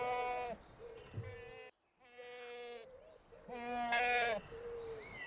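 Several nasal, wavering goat bleats, one after another with brief pauses, close by and fairly loud over a quiet outdoor background.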